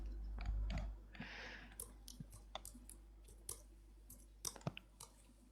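Light taps on a phone screen while an Instagram handle is entered, a quiet, uneven string of soft clicks after a brief louder rustle at the start.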